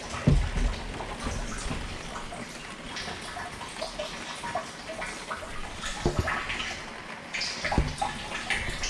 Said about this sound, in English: I can hear water filling up.